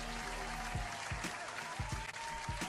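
Applause from a crowd at a live event, a steady wash of clapping with a few sharper claps standing out, continuous and fairly loud, with faint voices underneath.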